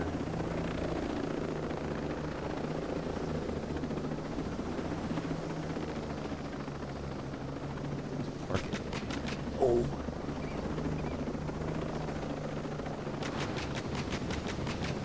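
A military helicopter thrums steadily at a distance in the tactical shooter game Ghost Recon Breakpoint. The low rotor drone carries on throughout, with a few faint clicks. Someone briefly speaks.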